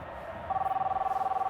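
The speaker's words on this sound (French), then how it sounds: "Pardon, coach, c'est mon téléphone cellulaire." A mobile phone ringing in a locker, its electronic tone pulsing rapidly and steadily for about a second, close and clear.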